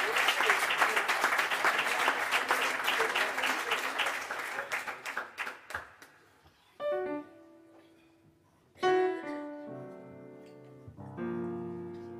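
Audience applause at a jazz concert in a club, a dense burst of clapping that fades over about six seconds, followed by a few sustained piano chords ringing out alone.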